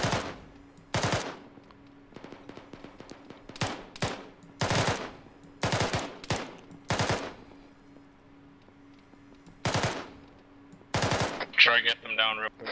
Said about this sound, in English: we're taking fire to the northeast